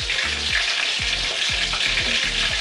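A leg of lamb browns in a hot pan, giving a loud, steady, close sizzle of frying fat with a dense, unbroken crackle throughout. No one speaks.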